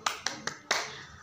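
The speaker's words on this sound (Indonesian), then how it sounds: "tepuk tangan untuk kita semuanya" A classroom of children clapping hands in a quick run of four sharp, separate claps, the last one fuller and trailing off, close by with no talking.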